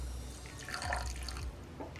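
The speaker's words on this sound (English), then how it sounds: "I'm going to add about a tablespoon of lime juice." Lime juice, about a tablespoon, trickles into slow cooker chicken in a short, faint pour with light liquid splashes and drips.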